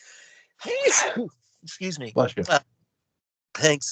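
One sharp, close sneeze from a man during an indoor conversation, followed by other voices speaking briefly.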